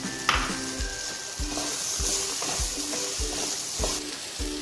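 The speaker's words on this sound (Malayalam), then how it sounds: "ക്യാരറ്റ് ഇട്ട് ഒന്നിളക്കിയാൽ മതി" Chopped carrots being stirred as they fry in a pan with other pasta ingredients, a steady close sizzle with repeated scraping stir strokes and no talking.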